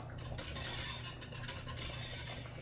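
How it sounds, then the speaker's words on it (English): A whisk stirring Pioneer country gravy mix in a pan, with soft rhythmic scraping and clinking against the metal under a low simmering hiss, fairly quiet and without speech. "I'm going to use the whisk here to start stirring this up"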